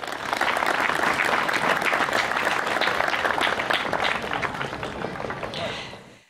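A crowd applauds at an outdoor church-grounds concert in Ražanj, Serbia, with dense, loud clapping sustained for several seconds before tapering off at the end.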